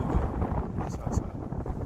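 Steady, rough wind buffeting a microphone, a continuous low rumble with gusty swells throughout.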